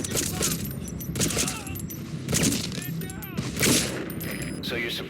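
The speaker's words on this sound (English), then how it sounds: "We're hearing gunfire." Gunfire in the stealth video game Metal Gear Solid V: Ground Zeroes, with bursts of shots repeating across the clip under voices and game sound effects.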